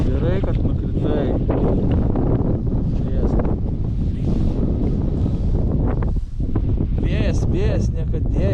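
Strong wind gusts buffet the microphone outdoors while someone is fishing, making a loud, continuous broadband rumble and roar that never lets up, with some faint, higher-pitched sounds near the end.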